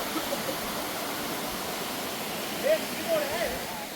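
A hidden waterfall at Kasarvadavli streams down over rocks in a steady, even rush of white noise, with a couple of faint, brief chirps over it near the end.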